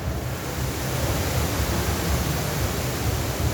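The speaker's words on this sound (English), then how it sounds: "here's this computer-controlled waterfall" The computer-controlled indoor waterfall on an upper floor of Icon Siam in Bangkok produces a steady, loud, broadband rush of falling water that holds constant throughout, with no voices.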